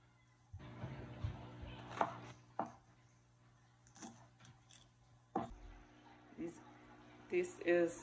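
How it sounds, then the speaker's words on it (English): Parsley being minced with a knife on a board, heard as irregular chopping taps and knocks in bursts, with a voice speaking over part of it and a steady low kitchen hum underneath. "This is some parsley, and I'm going to mince that in small pieces."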